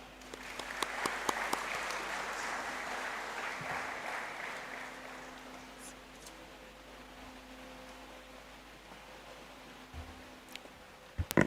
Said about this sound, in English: Please join me and let's welcome her with a clap.